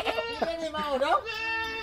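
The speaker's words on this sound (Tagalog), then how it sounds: "Ang lalaki ng mga kambing ng farmers po" Goats on a farm bleat loudly and close, with long wavering cries overlapping one another while people talk nearby.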